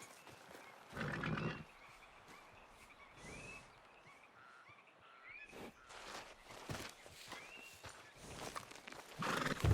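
A horse neighs and whinnies several times over hoof clops and a busy outdoor ambience with croaking frogs in Red Dead Redemption 2, the calls rising loud near the end.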